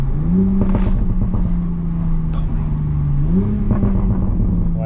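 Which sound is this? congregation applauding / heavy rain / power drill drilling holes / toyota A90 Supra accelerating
toyota A90 Supra accelerating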